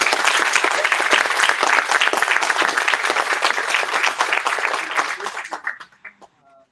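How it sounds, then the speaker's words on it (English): Audience applause welcoming a speaker at a security meetup, dense steady clapping from a crowd that thins out and fades to a few stray claps at the end. "give him a big round of applause"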